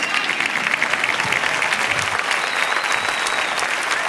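Loud, sustained applause fills the hall for the winner of the Tabaiba de Oro 2011 award at the UniverSong song festival ceremony in Los Realejos, Tenerife, a dense steady clatter of many hands lasting throughout.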